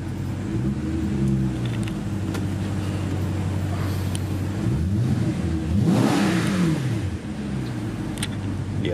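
An Audi RS5 Coupe engine in dynamic mode revs hard several times, the exhaust rising and falling in pitch with a loud throaty roar, no voices.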